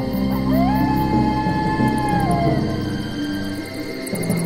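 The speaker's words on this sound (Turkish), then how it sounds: "Kurtlar etraflarında ulurken" Wolves howling at night in a forest, long rising and falling wavering howls over a low droning background, continuous and fairly loud, no talk.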